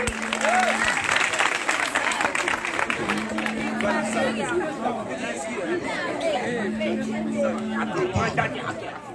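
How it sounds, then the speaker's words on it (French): An audience at a slam poetry festival claps steadily, with crowd chatter and a voice running through the applause. "On applaudit."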